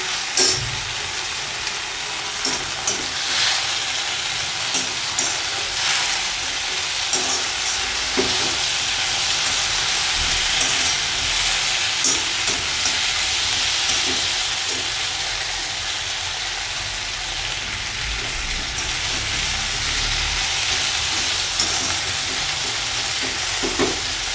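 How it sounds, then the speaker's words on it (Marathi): Fried cauliflower pieces for cauliflower chilli are tossed and stirred in a hot pan, a steady broadband sizzle running unbroken with scattered scrapes and clicks of the spoon, close and fairly loud, with no talking. "नंतर आपला आता फ्लावर जे आपण तळून ठेवलेलं आहे ते टाकून घ्यायचं आहे."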